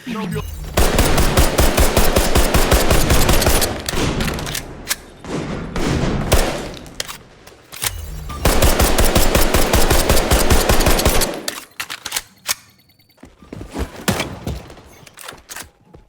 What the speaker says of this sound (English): sometimes when you're firing the weapon, you got the smoke